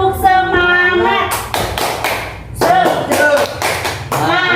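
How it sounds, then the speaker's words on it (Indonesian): A classroom of pupils performs a rhythmic cheering clap routine, sharp close hand claps in quick patterned bursts mixed with children's chanting voices. "Bagaimana tepuk semangat?"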